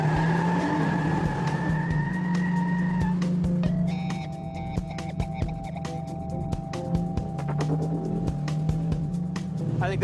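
A custom-built Plymouth GTX muscle car drives off on its first ride, its engine droning steadily with shifting pitch as it accelerates, while clicks and rattles sit over the moderate motor sound.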